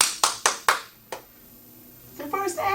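A few sharp claps from an audience at a stage show in a quick burst, then a quiet pause before voices and higher tonal sounds come in.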